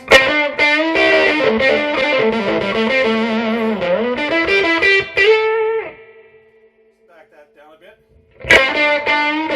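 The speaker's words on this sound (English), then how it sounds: "Can you get a nice mild breakup from this solid state amplifier? Absolutely, you just heard it." Electric guitar chords through a Fender M80 solid-state amp with a light, gritty overdrive ring out steadily, fade into a quiet decay, then a fresh strum returns near the end.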